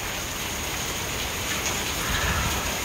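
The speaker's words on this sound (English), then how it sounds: "But I've never seen this much hail here anyway." Heavy hail storm pounding outside a house in Fort Smith, Arkansas, a dense, steady roar of ice hitting surfaces, loud and continuous throughout with no voices.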